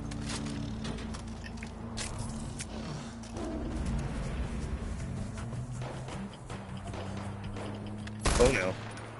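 Gunfire in the video game Far Cry, scattered shots and bursts amid a busy game soundscape with music or drones, ending in one louder close blast; a voice talks over parts of it.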